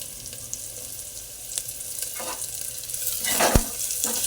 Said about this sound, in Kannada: ನೀಟಾಗಿ ಮಿಕ್ಸ್ ಮಾಡಿ ಎಲ್ಲ ಮಿಕ್ಸ್ ಆಗ್ತಿದ್ದಂಗೆ ಮೂರು ನಾಲ್ಕು ಹಸಿರು ಮೆಣಸಿನ್ಕಾಯಿ ಹಾಕಿ